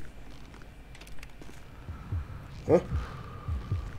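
A heartbeat sound effect in Grand Theft Auto V thumps low and soft during elk hunting, with faint ambient hum, a stronger beat near the end and a brief spoken word.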